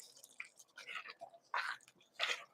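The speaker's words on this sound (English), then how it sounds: "It's making that slurping sound, which I think means this chili is probably close to getting done." Chili bubbling in a cast iron pot, a few soft wet slurping pops and blips spaced irregularly over quiet background, faint and close.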